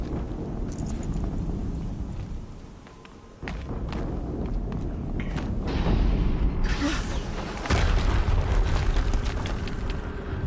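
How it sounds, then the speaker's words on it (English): Heavy booming blasts rumble through Horizon Zero Dawn gameplay, with a dense low roar and sharp onsets near the middle and later on, sustained and loud throughout. "Another explosion."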